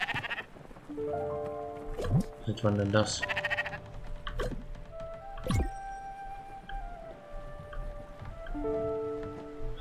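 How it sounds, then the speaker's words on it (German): A sheep bleats aboard a boat in the video game Spiritfarer, a few short wavering calls mixed with light game music and chimes, while a person talks over it. "Oh, jetzt haben wir ein Schaf an Bord."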